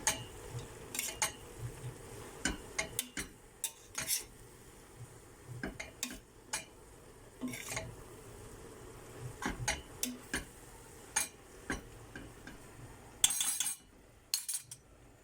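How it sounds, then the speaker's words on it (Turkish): Mushrooms being stirred in a pan with a utensil, giving quiet irregular clinks and scrapes against the metal over a soft low sizzle, close but faint, with no talking. "Şöyle kümecimi bir karıştıracağım"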